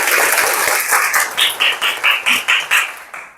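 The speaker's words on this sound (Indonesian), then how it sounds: "Tepuk tangan dulu." Children in a classroom clap together, first a busy scatter of hands and then a run of about eight loud unison claps in a quick even rhythm that stops abruptly.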